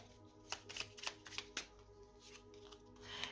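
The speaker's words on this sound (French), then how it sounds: "Alors, on va prendre une petite carte." Tarot cards are handled and drawn from a deck during a reading, with a quiet series of soft, crisp card flicks and slides close to the microphone.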